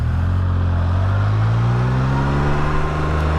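The engine of a VCM F3-T vehicle while riding, heard as a loud, close, sustained drone with a steady low tone that rises gradually in pitch over a few seconds, without any talking.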